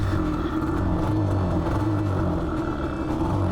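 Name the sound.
Yamaha Banshee race quad engine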